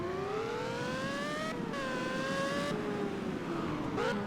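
Collectible car in the Greenville video game, its engine revving loudly with rising pitch through several gear shifts, a continuous strained whine close up.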